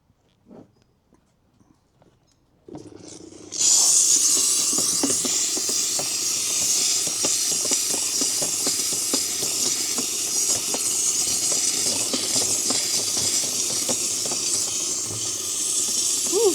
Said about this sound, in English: Steaming.